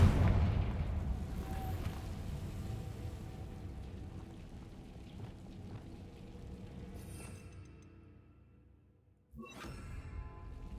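Bombarda and Confringo explosive spells cast in the Hogwarts Legacy video game: a dense, rumbling blast fades over several seconds, then a sharp new burst strikes near the end.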